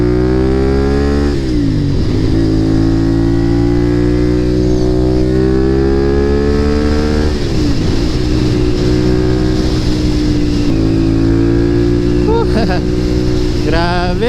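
A CFMOTO 450SR motorcycle cruises on an expressway, its engine a loud, steady drone with heavy wind rush, dipping briefly between gear changes and then climbing again.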